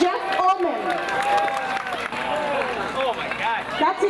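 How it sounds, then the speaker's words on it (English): A crowd applauds a pike-fishing derby winner at an outdoor awards gathering, steady clapping mixed with cheering and overlapping voices for about four seconds. "Keep that applause going for Mr. Jeff Ullman"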